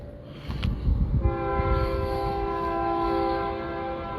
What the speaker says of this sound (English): That train is messing up my investigation.